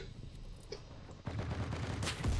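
Gunfire from the World War II shooter game Enlisted, a busy low rumble of weapon fire that swells after a quieter opening into dense, continuous bursts near the end.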